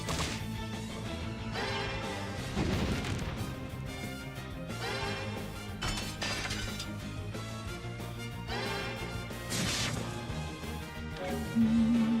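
Fire spell attacks strike in a turn-based fantasy RPG battle, a series of crashing, whooshing impact bursts layered over continuous game music, with no talking.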